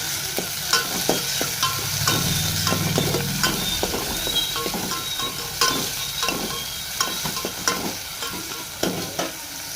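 Onion and tomato frying in a pan at home, stirred with a utensil: steady close sizzle with repeated scraping and clinking strokes throughout, no voices.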